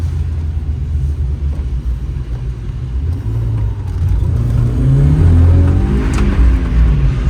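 A car drifting with its engine revving hard, a loud, continuous low rumble that swells louder toward the end with no pauses.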